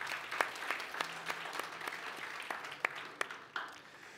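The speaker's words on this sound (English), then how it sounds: "The big clap." Applause at an online Sunday church service: faint, scattered claps from a modest audience, with a few sharper individual claps standing out against a quiet room.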